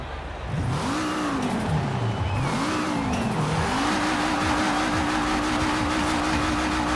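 A 1973 BMW 2002 Turbo in Forza Horizon 4 revs and accelerates hard, its engine note rising and dipping through gear changes before settling into a steady, loud drone, with a faint tire squeal in the mix.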